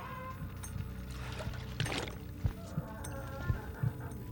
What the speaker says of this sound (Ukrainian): Обов'язково набираємо воду.